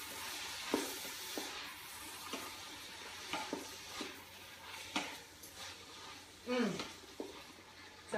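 Vegetarian quinoa chili gets stirred in a pot. A spoon scrapes and clacks with irregular strokes over a steady soft sizzle, and a voice talks alongside it.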